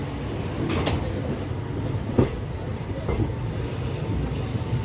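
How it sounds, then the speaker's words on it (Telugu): A Guntur to Rayagada Express train running just after leaving Vijayawada Junction, with a steady, continuous rumble and a few faint squeals and clanks rising over the moving carriage noise. "విజయవాడ జంక్షన్ నుండి అయితే మన ట్రైన్ అయితే బయలుదేరిపోయింది"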